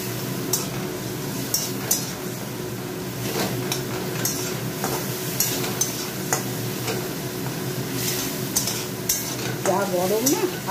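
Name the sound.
stirring and frying potato with onion and garlic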